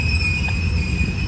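San Joaquin Valley Railroad locomotives 1825, 1826 and 1829 on a funeral train rolling past, a steady loud rumble of engines and wheels with a sustained high whine over it, continuous throughout.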